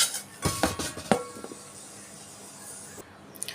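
Fried okra scraped from a pan onto a plate with metal utensils, with several close, sharp clinks and scrapes in the first second and a half, then a quiet hiss of background noise and a faint clink near the end.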